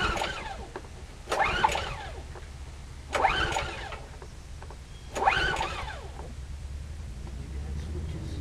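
Coleman Powermate 1850 portable generator being pulled to start on full choke: three rough cranking bursts about two seconds apart, with the small engine not catching, over a low background rumble.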